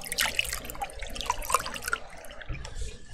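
Water runs from a tap with a steady close splashing hiss, uneven and gurgling, and a faint low thump near the end.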